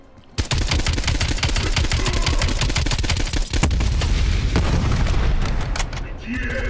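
A grenade explodes in Call of Duty Black Ops Cold War amid dense, rapid gunfire. The booming blasts are loud and close and run almost without pause.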